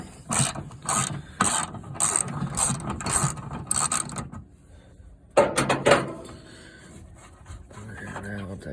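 A ratchet wrench working the starter bolt loose on a 1963 Pontiac Star Chief, quick clicking bursts in a near, irregular rhythm, a pause, then a few more sharp turns, with faint voice sounds in between.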